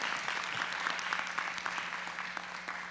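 Audience clapping at a school board meeting, steady dense applause filling the room for nearly three seconds at moderate loudness, with a faint steady hum underneath.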